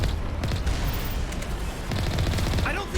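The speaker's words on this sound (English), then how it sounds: "let's take out these turrets for the XP" Turret gunfire in the Mass Effect video game: a continuous barrage of rapid shots and low booms, loud and dense throughout, with no speech.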